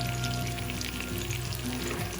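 Cumin seeds (jeera) fry in a little oil in a curry pan, giving a steady, soft crackling sizzle that runs evenly throughout without any voices.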